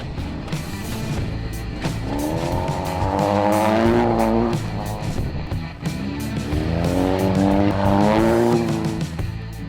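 A car drives a homemade snow track, its engine revving hard and loud through two long rising surges, with tire squeal and skidding on the bends. No one speaks.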